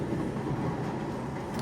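A train rumbles past nearby as a steady, dense low roar that stays loud and even through the whole short stretch, with no voices over it.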